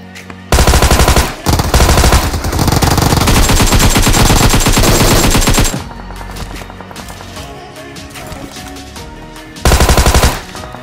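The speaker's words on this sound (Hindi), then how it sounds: "मैं अब इसको इसकी गन पावर आपको दिखाता हूँ कि गन पावर कैसी है इसकी" Automatic gunfire in a battle royale video game rattles in loud, rapid bursts: a long, sustained spray of shots for about five seconds, a quieter stretch of lighter game sounds, then another short, sharp burst near the end.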